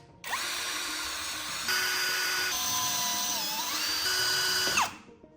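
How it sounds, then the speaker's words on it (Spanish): A power drill whines steadily for about five seconds while tapping M4 metric threads into holes, its pitch rising and dipping as the bit works, loud and close with no talk. "Roscamos todos los agujeros a métrica 4"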